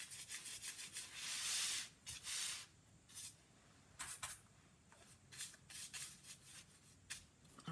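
Black wax is rubbed along the edges of a decoupage project, making soft, close scuffing strokes in irregular bursts with short quiet gaps between them.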